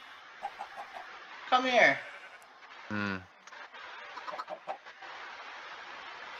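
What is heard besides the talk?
chickens clucking in a video game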